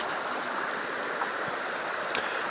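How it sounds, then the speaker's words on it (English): A brook flows outside a tent, making a steady, broadband rushing wash that fills the whole stretch without pause, close and fairly loud. "You don't even hear the brook anymore."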